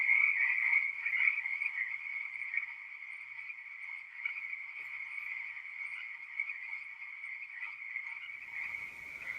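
Frogs croak in a dense, continuous chorus, a steady rasping trill that holds for about nine seconds at even loudness before cutting off abruptly at the end.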